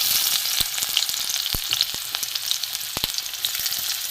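Chopped onion frying in oil in a wok, a soft continuous sizzle broken by sharp scattered pops and stirring clinks, close and moderately quiet, with no voices.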